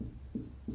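Writing during a maths lesson: a few short scratchy strokes of a pen or chalk, quiet and close, three brief marks with short pauses between them.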